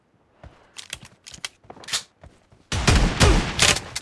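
Shotgun fire in a 1v1 mobile shooter match, a series of sharp separate blasts followed by a dense rapid volley of loud shots, close and punchy.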